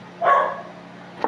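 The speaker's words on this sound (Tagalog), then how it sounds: "Ingay ng aso." A single dog bark rings out nearby, followed a second later by a short, softer yip.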